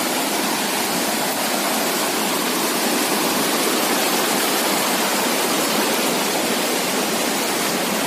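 Water gushes violently from a burst hydropower project pipe at a landslide site, a steady, loud, broadband roar like a waterfall that fills the whole stretch without a break.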